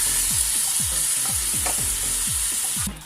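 Marinated mutton, a kilogram of it for Hyderabadi dum biryani, sizzles and fries in a hot pot, a steady loud hiss with regular stirring scrapes roughly every quarter second, no voices.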